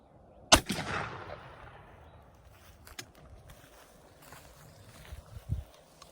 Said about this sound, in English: So I guess we're gonna go ahead and shoot left cardboard box with the black target.